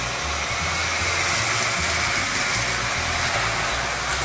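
A HiHHY stick vacuum sweeps up a week's worth of floor debris, giving a loud, steady motor whine with airy suction noise and a slight low rumble, close and continuous with no talking.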